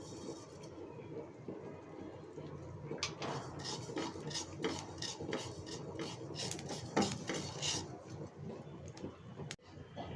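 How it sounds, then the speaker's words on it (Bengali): Nigella seeds (kalijira) dry-roasting in a kadai, with close metallic scraping and light clinking of a utensil against the pan in a steady, busy rhythm, fairly quiet and with no voices. "কালিজিরাগুলো টেলে নেব।"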